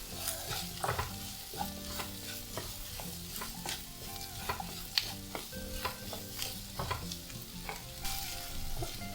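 Potato and beans masala is stirred and sautéed in a pan with a steady sizzle, while a spoon scrapes and knocks in irregular strokes against the pan, up close.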